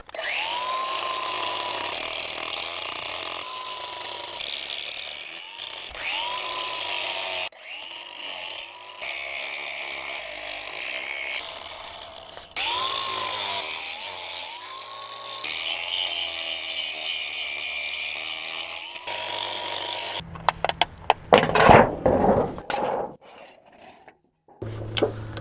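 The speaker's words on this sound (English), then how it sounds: "Let's try this using my good friend the grinder and a concrete wheel." An angle grinder fitted with a concrete wheel cuts into concrete, giving a loud, steady whine that rises and falls in pitch under load for about twenty seconds, then breaks into harsh, irregular bursts before it stops.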